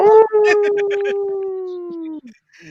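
A man imitates a lone wolf's howl with his voice, one long sustained wavering note that slides slightly downward, loud and close, ending in a short break and a faint trailing sound.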